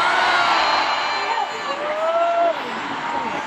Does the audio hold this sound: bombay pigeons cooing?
no